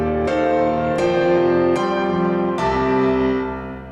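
A Signature Grand piano patch hit hard in four loud chord strikes, heavily squashed by a limiter so the level stays flat and dense, playing alone.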